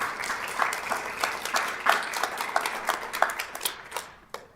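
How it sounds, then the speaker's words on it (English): Audience applause at a school district governing board meeting, a moderate run of clapping from a modest crowd that thins out toward the end. "we wanted to give him a round of applause"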